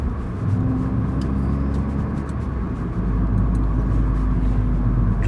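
An Audi S3's engine drones steadily and grows heavier as the car accelerates, a continuous loud cabin rumble with no talk.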